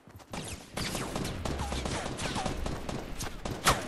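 Gunfire from an online Fortnite battle royale match, a rapid burst of shots followed by scattered cracks, moderately loud and mixed with game sounds.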